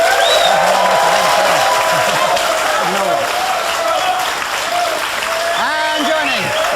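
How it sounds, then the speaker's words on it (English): Studio audience applauding TV presenter Dave Fanning, a loud sustained clapping with some cheers as a host talks over it. "Dave getting a big clap there"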